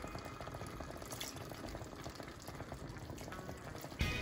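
Chilli con carne with tomatoes simmers in a pot, a soft, continuous bubbling and popping heard close up, fairly quiet, with a brief knock near the end.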